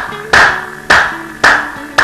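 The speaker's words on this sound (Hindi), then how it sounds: "और ताली देखिए कैसे बजाना चाहिए" Hand clapping as part of clap yoga practice: four loud, sharp claps spaced evenly about half a second apart, close by, over a faint background hum.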